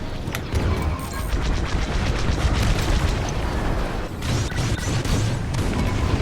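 Bombing runs in Star Wars Squadrons send continuous heavy explosions rumbling one into another over six seconds, loud and dense, with a steady engine roar beneath and no pauses.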